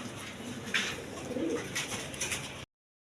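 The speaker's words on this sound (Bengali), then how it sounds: "রাজগোল্লা কবুতর আছে একদম কোয়ালিটি সম্পন্ন কবুতর দেখেন" Domestic pigeons, high-quality fancy breeds kept for sale, coo softly nearby in a steady murmur, with a few brighter fluttery bursts and no voices.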